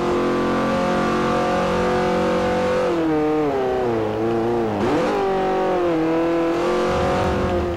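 A race car in Forza Motosport 4 revs hard through a lap, the engine pitch climbing and dropping with gear shifts and cornering, loud and close with no talk.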